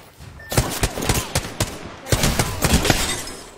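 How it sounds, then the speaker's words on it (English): Enemy gunfire in a first-person shooter game, rapid bursts of sharp shots popping close and loud in two clustered volleys about a second and a half apart. "The enemies are shooting at me."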